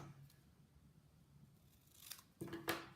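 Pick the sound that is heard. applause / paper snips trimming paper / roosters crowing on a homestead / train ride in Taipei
paper snips trimming paper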